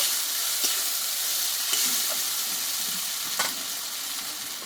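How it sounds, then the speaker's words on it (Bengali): Spice paste frying in hot oil gives a steady, even sizzle at close range, with a few faint stirring scrapes rising briefly above the hiss. "এইবার এই মশলাটা যে পেস্ট করে নিয়েছিলাম আমি দিয়ে দেবো ভালোভাবে একটু এটা তেলে এটা কষিয়ে নেব"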